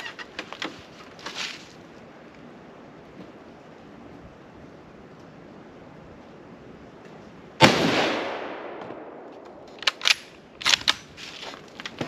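A single loud report from a Mosin Nagant 1891/30 rifle fired outdoors on a mild day, sharp onset with a decaying echo tail, followed by a few fainter clicks of the bolt action.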